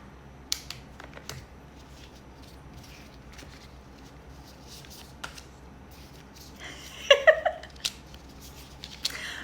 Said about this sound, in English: pulling a couple more cards for this group